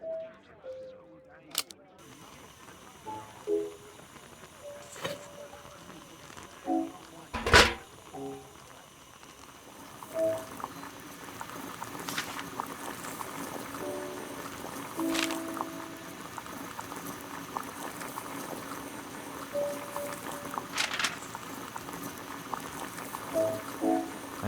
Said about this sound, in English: Boil water in kettle.